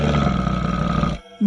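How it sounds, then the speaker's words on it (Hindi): A monkey-like creature with red eyes, big teeth and a blue head growls in a loud, rough, sustained roar lasting about a second, then breaks off into a short lower grunt. "तभी वह बंदर गुर्राने लगता है।"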